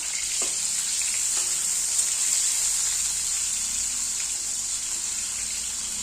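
Paneer pieces fry in hot oil, giving a loud, steady high sizzle that carries through with a few faint clinks and no talking.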